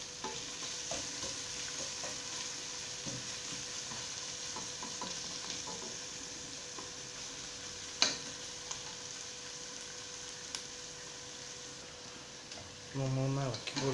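Sliced onions fry in hot oil with a steady soft sizzle while a spoon stirs them in the pan, giving occasional scrapes and taps, close and quiet, with a louder clatter near the end.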